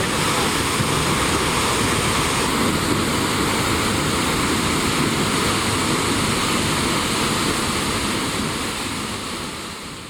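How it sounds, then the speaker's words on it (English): Seljalandsfoss waterfall in Iceland roars as a dense, continuous rush of falling water, loud and close with some wind buffeting, fading slightly at the end and with no voices. "we couldn't miss the Seljalandsfoss waterfall"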